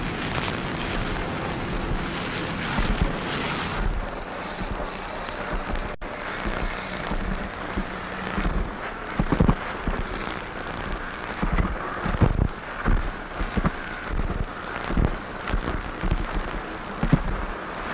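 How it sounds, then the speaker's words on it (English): Cigarette offshore racing powerboat engines throttling up and down at a race start, a steady broad roar with surging rises and falls and a high whine above, no voices. "Nice throttling there by Phil"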